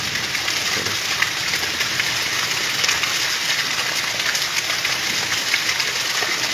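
A heavy afternoon downpour makes a dense, unbroken hiss of rain on surfaces, loud and close and steady for the whole stretch, with no voices.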